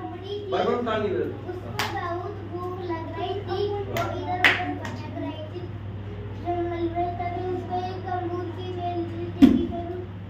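Children's hands clap in a classroom, a few scattered sharp claps spread across the stretch rather than a steady round, with children and adults talking throughout.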